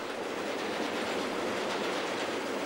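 A DR class E42 electric locomotive train rolls past at close range, a loud continuous rumble and rail clatter that holds steady throughout with no voices.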